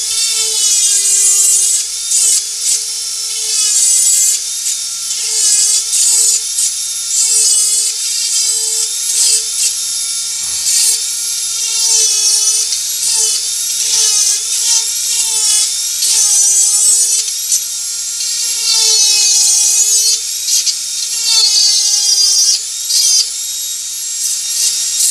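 A Dremel rotary tool fitted with a burr power-carves a wood tree carving, its high-pitched whine loud and close, rising and dipping repeatedly as the bit is pressed to and lifted from the wood, no talking.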